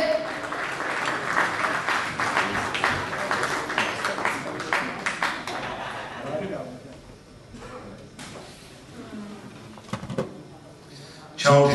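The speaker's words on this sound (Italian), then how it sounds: "Un bel applauso, grazie." A crowd at a Miss Ciclismo beauty pageant pre-final applauds steadily for several seconds, then the clapping thins into scattered claps and room noise before a loud burst at the end.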